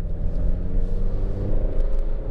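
An Alfa Romeo Stelvio with an 8-speed automatic drives along, its engine a steady low rumble with a droning tone heard from inside the car, no distinct gear change standing out.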